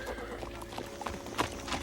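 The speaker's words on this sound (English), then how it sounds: "I will get the horses." Horses neigh and whinny amid clip-clopping hooves at moderate distance, with busy overlapping activity and a louder whinny near the middle.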